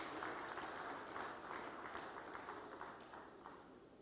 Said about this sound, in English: I think it deserves another wonderful round of applause